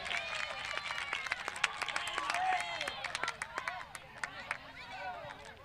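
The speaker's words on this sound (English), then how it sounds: "The Vineland crowd over on this side of the field getting into the game already, applauding the referee for his offside call" Crowd at a girls' soccer game clapping for the referee's offside call, scattered applause from across the field that thins out near the end, with talk faint in the background.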